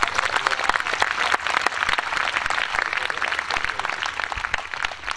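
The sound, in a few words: audience applause, clapping loudly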